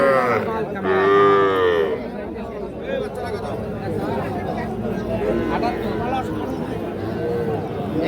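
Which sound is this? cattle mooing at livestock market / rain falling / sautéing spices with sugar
cattle mooing at livestock market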